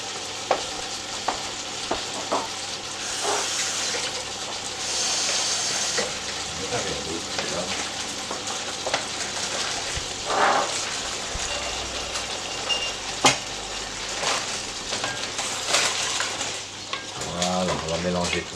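Veal osso buco cooking in a pan after oil and water are added, a steady moderate sizzle with occasional stirring clinks and scrapes running throughout.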